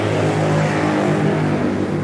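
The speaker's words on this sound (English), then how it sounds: "Sorry, freaking noise out here in the province. The trikes and motorcycles and mess." Street traffic in a Philippine province with motor tricycles and motorcycles passing, a steady, loud engine rumble and revving close by with no talk.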